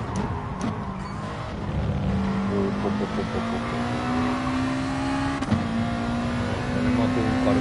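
Race car engine in Gran Turismo Sport, a Corvette or Ford GT, holding a steady droning tone that climbs slowly as it revs, with a sharp click partway through and a faint voice underneath.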